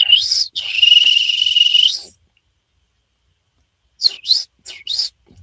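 Sharp, high two-tone whistles from The Last of Us, a long sustained call followed by a pause and then several short clipped whistles, loud and close with no talking.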